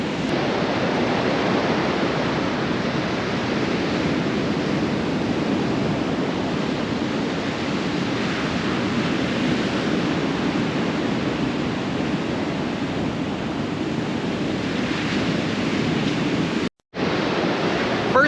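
Choppy ocean surf breaks along a beach where people fish from shore, making a steady, loud broadband roar with wind rushing over it and no voices.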